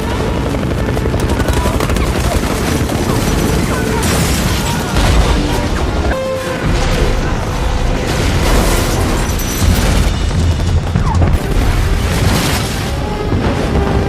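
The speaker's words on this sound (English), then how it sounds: "Half the budget went to that explosion!" Explosion scene from the action film xXx: a dense, loud stretch of booming blasts, bursts and rumbling debris layered with a driving soundtrack, continuous throughout.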